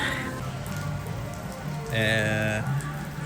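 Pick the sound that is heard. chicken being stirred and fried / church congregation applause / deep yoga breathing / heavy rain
heavy rain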